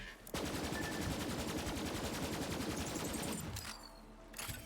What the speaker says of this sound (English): apparently got a machine gun that sets me on fire